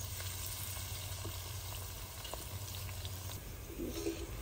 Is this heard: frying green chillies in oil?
yes